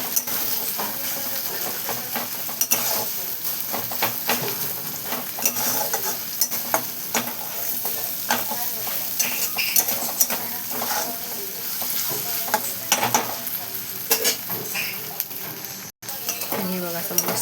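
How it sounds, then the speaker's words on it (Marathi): Crushed green chilli and garlic stirred into a softened onion and tomato mixture frying in a pan, a loud continuous sizzle with steady scraping stir strokes throughout, close up and alone. "त्याच्यामध्ये मिरची आणि लसूण ते कुटून घेतलेलं ना आपण ते टाकून घेतो. आणि मस्त असं मिक्स करून घेतलं."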